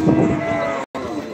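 A dairy cow moos at a cattle fair in Capoeiras, Pernambuco, one loud, close, drawn-out low call that is cut off briefly near the end, with faint crowd noise behind.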